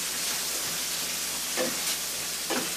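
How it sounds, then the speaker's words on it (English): A red pepper and half an onion fry in bacon fat in a frying pan, a steady close hiss with a couple of soft stirring touches. "I'm going to throw some one red pepper and 1/2 medium onion into the pan"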